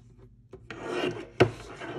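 A short rasping cut through a faux leather luggage tag edge, close and dry, a rough scraping swell followed by a sharp louder stroke near the end, with no talking.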